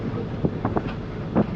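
Wind buffets the microphone on a moving safari bus travelling a main road toward Nagarhole forest, a steady rushing roar with a few soft thumps and gusts, no talk.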